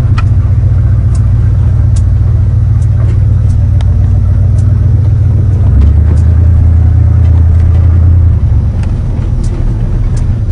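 Cadillac hearse with a broken muffler, its engine droning loud and deep at close range, a continuous low rumble that shifts pitch slightly midway as it keeps running.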